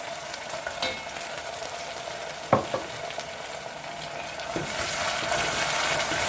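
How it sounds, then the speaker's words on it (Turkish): Soup base of tomato paste and tomato juice sizzles steadily in a pan as it is sautéed, with a few soft clinks of a spoon against the metal. "Güzelce kavuruyorum bunu da."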